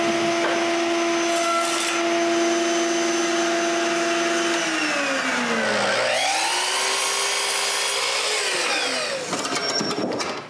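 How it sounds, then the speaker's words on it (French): A power tool, likely a router, cuts a chamfer into wood in a workshop, a loud sustained whine that dips in pitch as it bites into the wood and then recovers before winding down near the end. "je coupe une feuillure pour l'arrière. Je coupe aussi un chanfrein à l'intérieur"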